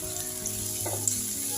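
Vegetables frying in hot oil, a continuous close sizzle and crackle with a faint stir or clink partway through, no talking.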